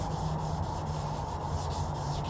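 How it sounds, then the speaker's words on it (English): Steady, close-up rubbing and scraping of fine wet sanding over an oxidized plastic car headlight, rhythmic strokes with a wet, gritty texture and no voices. "you're sanding down that top layer of oxidation"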